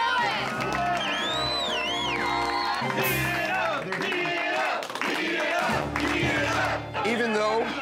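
Loud crowd cheering and shouting at a restaurant eating challenge where a man works through a 5.5 lb steak platter of prime rib, with whoops and voices overlapping continuously throughout.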